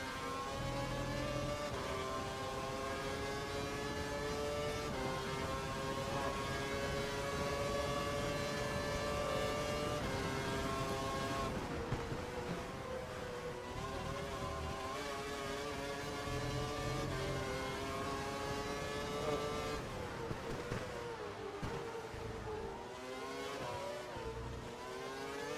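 F1 racing car engines in the F1 2012 video game, a continuous loud high-pitched engine whine climbing and dropping through gear changes, with brief lifts and renewed revving from the car behind throughout.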